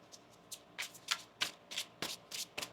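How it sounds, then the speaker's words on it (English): A deck of tarot cards being shuffled during a reading, with about ten quick riffling bursts of papery flutter in an uneven rhythm, close and fairly quiet, and no one talking. "One more shuffle."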